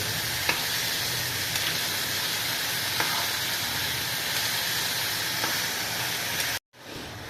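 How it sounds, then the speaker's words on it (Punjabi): Bottle gourd and ridge gourd fry in a pan with a loud, steady sizzle and hiss that runs unbroken, with faint stirring clicks, and then stops abruptly near the end. "ਹੁਣ ਆਪਾਂ ਇਹਨਾਂ ਨੂੰ ਚੰਗੀ ਤਰ੍ਹਾਂ ਭੁੰਨ ਲੈਣਾ ਇੱਕ ਵਾਰੀ"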